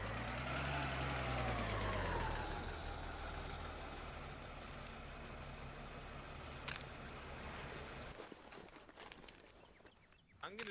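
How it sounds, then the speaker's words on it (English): A truck engine rumbles loudly and steadily, its pitch sliding down as it shifts, then settles into a lower running drone with some clatter toward the end. "I'm gonna move the truck a little bit."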